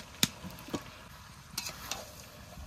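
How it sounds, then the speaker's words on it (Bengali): Potatoes sautéed with meat in a pan, soft sizzling under a few sharp clicks and scrapes of a spoon stirring against the pan, close and fairly quiet. "এবার আলুগুলো দিয়ে একটু কষিয়ে নেব।"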